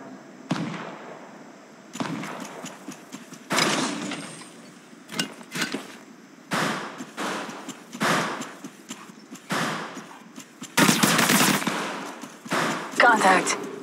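Rapid bursts of automatic gunfire in the Apex Legends battle royale game, loud clustered volleys separated by brief pauses, with sharp individual shots and a short spoken callout at one point.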